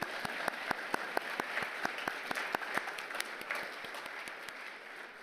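Audience applause at a university leadership awards ceremony, steady clapping from a seated crowd with sharp individual claps standing out over the dense patter, no speech.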